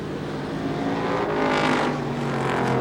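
Short track race cars roar around the circuit, a dense layered engine drone that swells as cars sweep past closer, then eases slightly.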